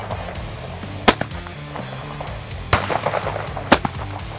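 At an outdoor shooting competition, three sharp gunshots crack at uneven intervals. They sound moderately distant over a low background of outdoor rumble.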